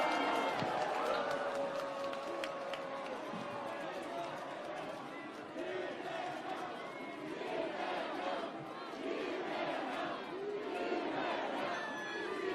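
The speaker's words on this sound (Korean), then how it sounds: "다시 한번 큰 박수 부탁드리겠습니다." A large crowd at an outdoor political rally in Myeongdong applauds and cheers for a presidential candidate. The clapping and cheering is continuous and moderately distant, with a roar of many voices blending in throughout.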